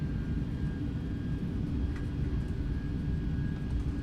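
Airbus A310 rolling down the runway after landing with thrust reversers deployed, a steady loud low roar of engine noise and rumble throughout, without any speech.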